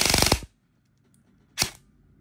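A Lonex MLOK 10.5-inch AEG airsoft rifle with upgraded internals, shooting about 420 FPS, fires a quick full-auto burst of around six sharp cracks, then one more loud shot after a short silence.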